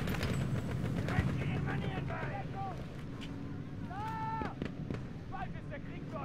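Gunfire and explosions in a video game battle, irregular shots and distant blasts under a steady bed of noise and talking, with other in-game sounds.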